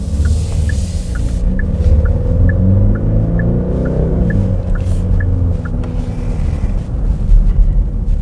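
Genesis GV70 diesel SUV climbing a slight hill under throttle, heard from inside the cabin as a loud, steady low engine drone and road rumble whose pitch rises and dips, with faint regular ticking over it.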